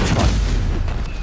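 A Stupefy spell cast in the Hogwarts Legacy video game, a loud booming burst with a sustained rumbling tail, dense and close, with no talk over it.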